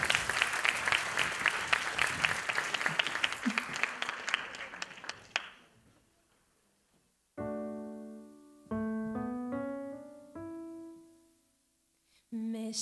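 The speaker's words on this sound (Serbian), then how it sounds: "veliki aplauz za Sofiju" Audience applause at a Francophone song competition in Niš rings out for a singing contestant, loud and dense for about five seconds before fading, followed by quiet and then soft piano-like notes.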